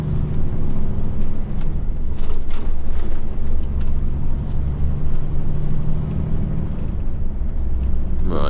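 An HGV truck's engine rumbles low and heavy from the cab while driving on UK roads, with a sustained engine-brake drone and scattered clunks and rattles, close and continuous.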